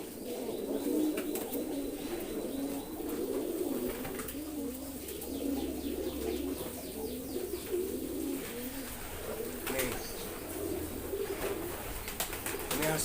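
Pigeons coo steadily in a loft of Kolong-type pigeons, a continuous layered murmur of low rolling calls with a few faint chirps and wing rustles, no talk.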